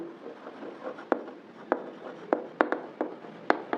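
A pen writes an English sentence on paper, soft scratchy strokes broken by sharp taps at regular intervals, close and fairly quiet with no talking.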